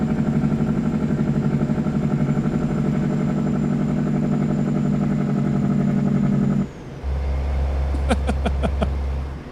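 Kenworth W900A truck engine in American Truck Simulator, a deep steady rumble that cuts out briefly, then returns lower with a run of sharp clattering pops, loud and close with no talk.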